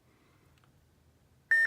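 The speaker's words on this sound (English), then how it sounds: "So push and hold for 2 beeps" A single sharp electronic beep from a lightsaber's button sounds loudly near the end, after a stretch of faint low background hum.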